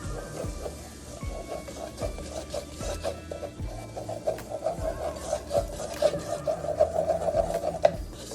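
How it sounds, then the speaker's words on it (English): Flour being stirred into melted butter in a pan for a light velouté sauce, giving a steady scraping, rubbing rhythm of utensil against pan with faint sizzle, close and continuous throughout. "And we're going to stir."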